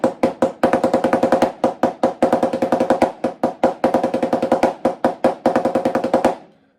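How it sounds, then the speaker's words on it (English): Nine-stroke roll played on a snare drum, groups of rapid, even, crisp strokes in a steady repeating rhythm, close and dry, ending in a final accented hit and silence. "is the 9-stroke roll"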